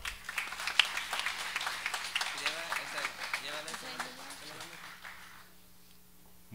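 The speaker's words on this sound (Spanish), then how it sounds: "Un fuerte aplauso." Soft, scattered applause at a high school graduation ceremony at Colegio Luis Hess in Sosúa, fairly distant and quiet. A voice speaks over the clapping before it fades out.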